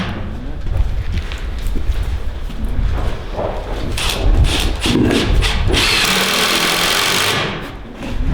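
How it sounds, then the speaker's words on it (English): Drilling for plumbing pipe at a mountain homestead rough-in, with rough grinding bursts and a sustained high, gritty drill whine toward the end, close and loud amid jobsite clatter, with faint voices now and then. "they're getting ready to drill holes and run pipe"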